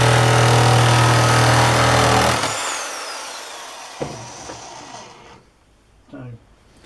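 A Drillpro nibbler runs loudly through steel sheet, then winds down and falls quiet with a few small clicks and handling noises as the cut ends, with brief voice sounds near the end.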